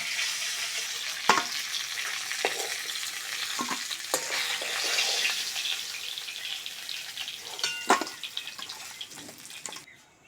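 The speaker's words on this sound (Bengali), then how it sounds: "মাছের মাথাগুলো খুব সুন্দর করে ভেজে নিয়েছি, তেল থেকে তুলে নেব" Fish heads frying in hot oil in a pan, a steady close sizzle with scattered sharp pops and spatters, fading near the end, no voices.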